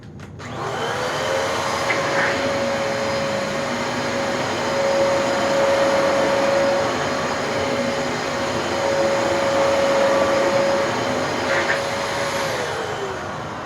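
A Dyson DC33 upright vacuum cleaner runs steadily for the whole stretch, its loud motor whine holding a constant pitch while it sucks up baking soda, with no talking over it.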